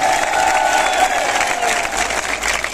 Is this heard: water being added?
no